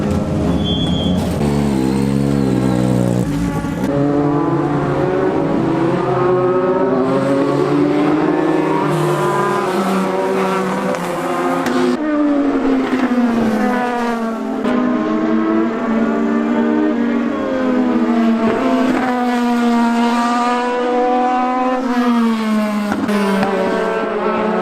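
Legend race car engine running on track, a continuous loud, harmonically rich drone that rises and falls with revs through gear changes, sustained close-up for the whole stretch.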